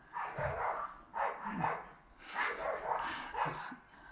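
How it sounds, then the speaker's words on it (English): A small French bulldog barks repeatedly in short, rough bursts at moderate distance, the yaps coming in uneven clusters through a garage-like space. "Little dogs, I think that's a little French bulldog, and it's just mental"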